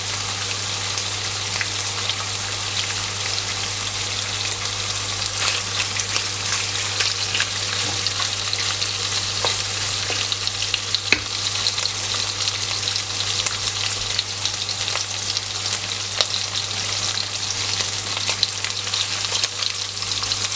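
Pork belly stir-fries in its own rendered fat for a basil stir-fry, producing a loud, continuous crackling sizzle with faint scraping from stirring throughout.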